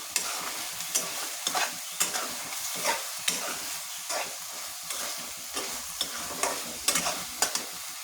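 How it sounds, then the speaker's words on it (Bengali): Potatoes fry in a pan while a utensil stirs them in regular scraping strokes over a constant low sizzle, close by with no talk. "আলু কষানো আগেই দিয়ে দিলাম এটা ভালোভাবে নেড়ে নিন"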